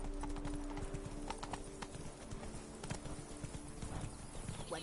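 Roach the horse trots in The Witcher 3, hooves clip-clopping in a close, even rhythm through the whole stretch against a busy game backdrop, with no talk over it.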